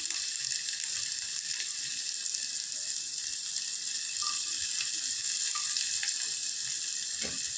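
Chopped onions sizzling and frying in hot oil with popped mustard seeds, a steady close crackle throughout with occasional stirring, no talk.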